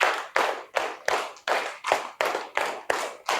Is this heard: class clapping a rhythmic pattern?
yes